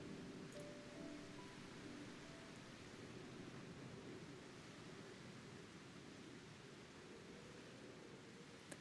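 Heavy rain pours steadily in Final Fantasy XIV, a dense, even hiss of downpour lasting throughout with no breaks or voices.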